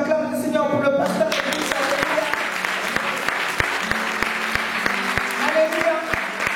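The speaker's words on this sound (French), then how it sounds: "J'aimerais qu'on acclame le Seigneur pour le pasteur." A church congregation applauds and cheers for their pastor during a French-language service in Nantes, sustained clapping from a crowd filling the room, with a few voices and a musical tone in the background.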